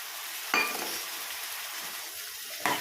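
Tomato juice poured into a sizzling curry pan of cucumber, egg and drumstick, a soft steady sizzle marked by two brief splashy bursts as the liquid hits the hot pan.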